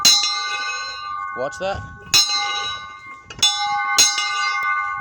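A church bell, struck by a clapper that double-strikes, rings loud and close in several clangs that each ring out in a long metallic hum. Someone speaks briefly between strikes.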